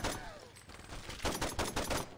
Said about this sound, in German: Zack, Kopfschuss.